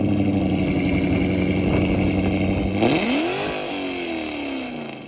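A Dodge Challenger Scat Pack with a Corsa Xtreme exhaust and Kooks long-tube headers drones loudly at a steady engine speed, then revs sharply upward and settles back into a lower, rumbling idle.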